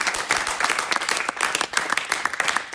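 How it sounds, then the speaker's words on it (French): A church youth meeting congregation claps and cheers for Jesus after a prayer, steady dense applause filling the room throughout. "On peut acclamer Jésus."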